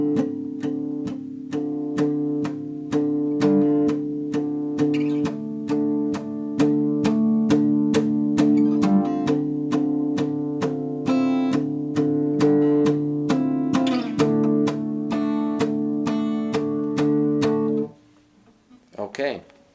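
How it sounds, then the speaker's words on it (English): Acoustic guitar played with palm-muted strumming, a steady rhythmic chug of damped chords that runs throughout before the final strum fades out. "But since my hand is on the strings while I strum, I get a palm muted sound."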